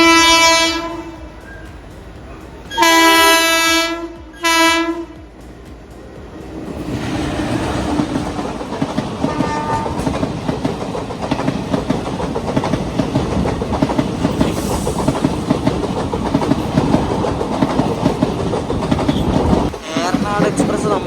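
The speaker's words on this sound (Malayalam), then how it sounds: "എക്സ്പ്രസ് നമ്മളെ ഓവർടേക്ക് അടിക്കുകയാണ് ഇവിടെ നോർത്തിൽ വെച്ചിട്ട്." Kanyakumari–Pune Jayanti Janata Express overtaking near Ernakulam North on the Ernakulam–Thrissur line, opening with two loud blasts of the train horn, then a long steady rumble and rhythmic clatter of coaches rolling past close by.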